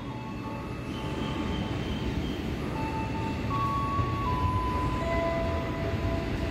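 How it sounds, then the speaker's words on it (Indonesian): A locomotive returning light to the Cipinang depot near Jakarta rolls past steadily, its dense rumble and wheel noise constant and fairly close, with faint tonal squeals from the rails drifting above. "Ada lokomotif lagi nih balik depo."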